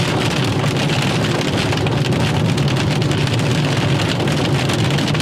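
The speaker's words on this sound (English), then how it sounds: "there is some little hail here, but it's only very little" Dense, steady patter of precipitation drums on a car during an evening supercell chase in New Mexico, a continuous close hiss with no break.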